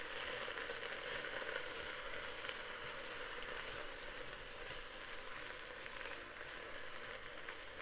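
Garlic spinach stir-fries in a pan, giving a steady, soft, even sizzling hiss that continues without a break at a fairly low level.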